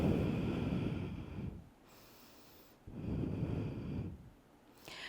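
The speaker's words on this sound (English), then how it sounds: "3 full breaths" Slow, deep breaths during a yoga pose, each long airy inhale or exhale followed by a quiet pause, heard close and alone.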